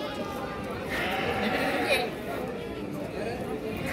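Goats bleat among a crowd at a livestock market where large sacrificial goats are sold, their calls mixed into steady chatter and someone talking close by.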